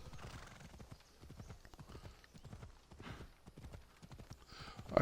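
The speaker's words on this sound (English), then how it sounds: "Get out of here, horse." Horse hooves clip-clopping in a steady trotting rhythm in the video game Assassin's Creed Odyssey, with a sharp neigh near the end, fairly close and moderately loud with no talk over it.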